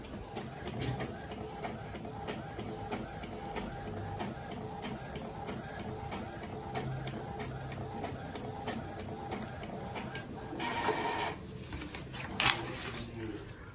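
A small desktop printer runs throughout with rhythmic mechanical clicking, whirring and paper-feed rattles, near and steady, with a louder burst of grinding and clunks toward the end.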